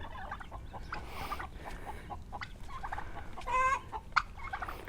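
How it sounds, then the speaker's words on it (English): Soft clucking and chirping from several chickens and newly hatched chicks, close and fairly quiet, with a brief louder squawk near the end. "they just hatched out some chicks"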